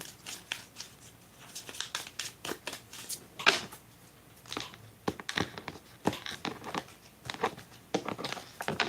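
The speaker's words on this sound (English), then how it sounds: "I'm just going to shuffle and let them do their work." Repeated riffling and snapping of cards being shuffled, quick papery flutters coming in uneven bursts, fairly close and with no talking.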